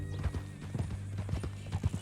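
Horse hooves clip-clop at a steady walking pace in the video game Red Dead Redemption 2, a clear, close rhythm of regular thuds over a low humming background.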